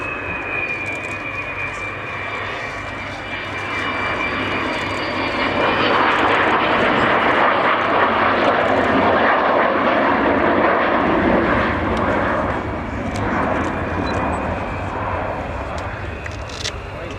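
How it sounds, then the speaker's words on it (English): Avro Vulcan XH558, a B2 delta-wing bomber, passes over the airfield during the 2011 Waddington airshow display, its jet roar swelling to a loud, broad rumble before slowly fading, while a commentator speaks over it. "the aircraft on the far side of the airfield, Vulcan XH558. Coming back in towards us now"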